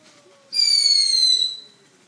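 A small consumer firework whistles shrilly for about a second, a single bright tone that rises in and slowly fades, with nothing else around it.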